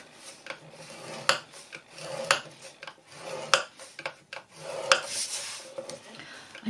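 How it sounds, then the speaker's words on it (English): A tool scores lines into paper for a small handmade card box, producing repeated close scraping strokes in an uneven rhythm of rasping passes. "you can see that I make the score lines twice"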